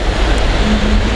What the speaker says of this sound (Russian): Волны здесь не сильные, не сносят.